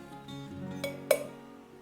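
Bread dough mixed with mayonnaise in a bowl gives quiet stirring and scraping, with faint light clinks and one sharper clink of utensil against the bowl partway through.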